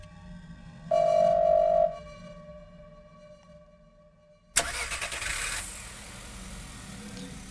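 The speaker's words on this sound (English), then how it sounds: "Sound of a car starting to come from outside the door." A car engine starts just outside a door in a Chinese horror video game, cranking and catching into a mid-pitched running rumble after a short tonal beep and a quiet stretch.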